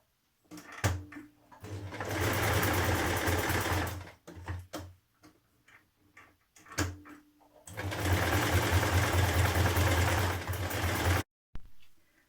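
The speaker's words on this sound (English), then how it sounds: "I'm going to do my buttonholes and button placement close together than it is on the pattern" A sewing machine stitches buttonholes on a Tilly and the Buttons Mimi blouse: two long, steady whirring runs of stitching, close and fairly loud, separated by a pause with light clicks and handling knocks.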